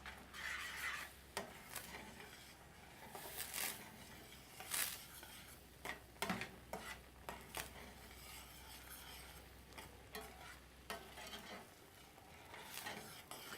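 A spoon stirs basic tomato sauce with calamansi and sugar in a pot, giving faint irregular scraping and clinking strokes over a low sizzling bed, with no voices.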